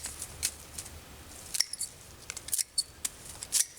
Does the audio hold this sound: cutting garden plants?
yes